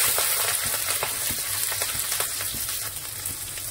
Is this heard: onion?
yes